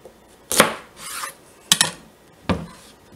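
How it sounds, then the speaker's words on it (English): An acorn squash is sawed in half with a knife, giving three separate rasping strokes through the tough flesh, close and clear with short pauses between. "I'm gonna cut this in half"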